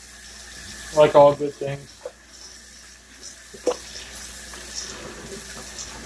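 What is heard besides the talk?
water running from tap while scrubbing cast iron skillet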